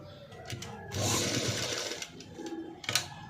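A sewing machine stitches around the back neck of a padded blouse in short bursts, close and fairly loud, its whirring stops and restarts with light handling sounds between.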